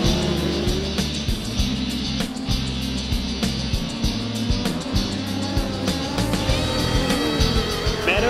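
Sprint cars racing on a speedway during a Speedweek round, engines roaring loud and continuous with a steady drone and small surges as the pack circles, a crowd-like wash behind them.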